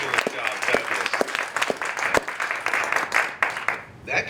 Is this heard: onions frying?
no